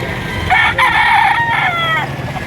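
A rooster crows loudly at a busy chicken market, one long drawn-out call rising and holding before trailing off, with crowd noise and chatter behind it.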